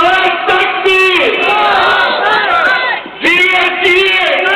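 A large crowd shouts the Nara-e-Takbeer religious slogan in unison, loud and close, with voices surging and bellowing over a few seconds, a brief dip, then another collective roar.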